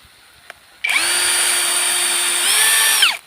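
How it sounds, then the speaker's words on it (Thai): A power drill whines steadily for about two seconds, close and loud, its pitch dipping slightly near the end before stopping. "แล้วเราก็เจาะ"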